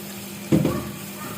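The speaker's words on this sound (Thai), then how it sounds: "เราจะล้างกุ้งด้วยเกลืออีกรอบค่ะ" Peeled shrimp rinsed in salted water in a kitchen: one short, close splash and slosh of water rises briefly out of a quiet room hum, then fades.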